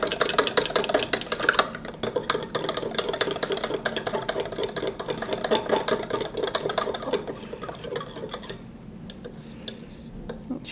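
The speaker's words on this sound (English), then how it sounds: "I'm just going to kind of whisk it all together with the fork." A fork whisks salt, pepper and seasoning together in a bowl, giving rapid, continuous clinking and scraping ticks close up that gradually soften and thin out toward the end.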